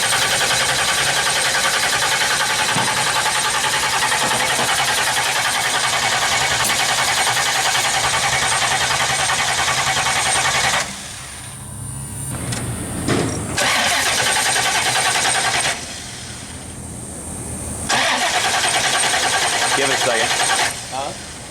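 A hot rod car engine cranks and catches, then runs in loud, rough bursts. Its note drops out twice for a few seconds before it roars back, close by.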